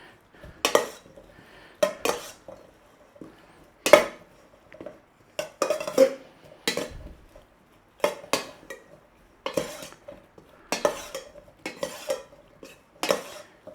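Pork being mixed with white pepper and soy sauce in a bowl, with repeated clinks and scrapes of a utensil against the dish in irregular bursts, close and fairly loud, no talking.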